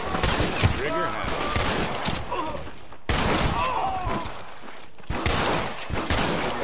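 Gunfire in a shooter video game, with dense bursts of rapid shots and fusillades in the foreground and a cut partway through, mixed with faint game voices.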